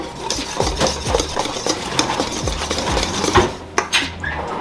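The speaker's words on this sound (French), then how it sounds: "une fois qu'on a fini de mettre le blanc de neige, tout le blanc de neige, pardon, on va mélanger" Spoon stirring beaten egg whites into tiramisu batter in a bowl, with repeated close scraping and clinking against the dish over a steady low background hum, and no talk.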